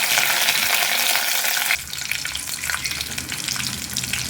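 Goat brain hisses and sizzles in hot oil with curry leaves, a loud crackling fry that drops to a softer, steady bubbling partway through.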